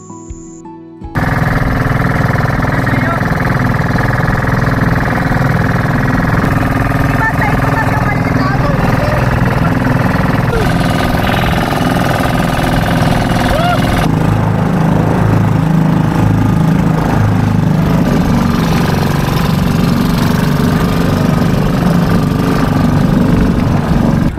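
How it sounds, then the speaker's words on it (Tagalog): A motorboat engine starts and runs steadily, a loud continuous drone with a buzzing mechanical rattle that never lets up. "Sumakay nga kami ng bangkang di makina."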